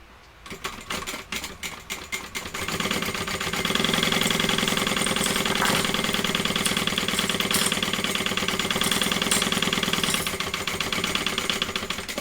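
A sewing machine stitches a seam on a shoulder bag, starting with a few slower bursts, then settling into a steady rapid mechanical whir that runs loud and close before easing slightly near the end.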